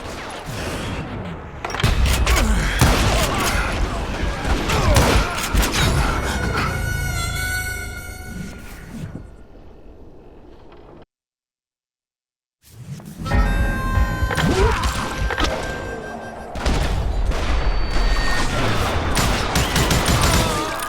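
Gunfire in the Western video game Call of Juarez: Gunslinger, with dense volleys of gunshots and impacts, a short silent gap midway, then more rapid shooting that picks up again loudly.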